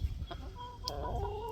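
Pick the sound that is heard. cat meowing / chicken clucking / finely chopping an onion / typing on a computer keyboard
chicken clucking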